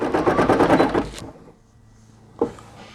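Brother PE800 embroidery machine stitching a logo onto a T-shirt, a loud rapid rhythmic clatter of the needle that stops abruptly, followed by quiet and a single small click.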